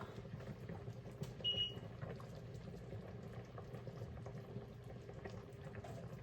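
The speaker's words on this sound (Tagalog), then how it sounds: "Kumulo talaga siya" Sinigang broth with pampano fish boiling in a pot: soft, continuous bubbling and gurgling, faint and close, with a brief clink near the start.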